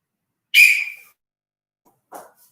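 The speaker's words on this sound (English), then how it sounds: "I blow my whistle" A martial arts instructor gives one sharp, loud blast on a pea whistle during a black belt class, trailing off quickly, followed a second later by a brief faint voice.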